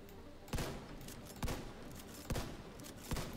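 Gunshots in The Division 2 video game, four sharp cracks spaced roughly a second apart, each with a short decay over steady background game noise.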